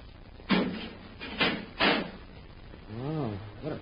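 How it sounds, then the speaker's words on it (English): A door closes in an old-time radio drama, heard as three quick, heavy thumps of a door being shut, followed by a short stretch of voice talking. "Better close the door behind us, Hap."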